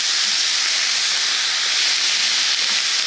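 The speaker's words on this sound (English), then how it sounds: "that will boil off quickly, but it helps create a little bit of steam" Water boiling off into steam in a hot pan of asparagus gives a steady, close, even hiss that runs unbroken throughout, with no talking.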